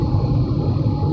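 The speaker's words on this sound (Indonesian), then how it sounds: "Jadi yang dikeluhkan itu bunyi desis" Steady broadband wind hiss inside a Toyota Voxy cruising on a toll road, a continuous rushing noise with low road rumble beneath, constant and unbroken throughout.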